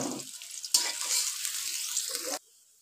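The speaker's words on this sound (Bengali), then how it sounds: "পুর বানানোর জন্য পেঁয়াজ দিয়ে দিলাম, পেঁয়াজ ভাজা নেব" Onions for a stuffing filling hit hot oil in a pan with a sudden loud sizzle, then a steady close frying hiss for over a second before cutting off abruptly.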